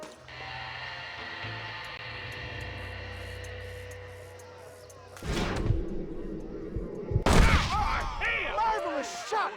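Gunfire bursts out in the Red Dead Redemption video game, a loud crack around the middle followed by another sharp shot and ringing tail, after a stretch of low ambient hum.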